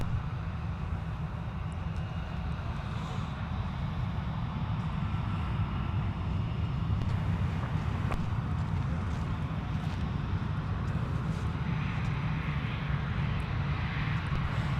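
A Delta airliner taxis at Minneapolis–St. Paul airport, its engines giving a steady, continuous low rumble with a faint high whine on top, unbroken for the whole stretch and with no voices.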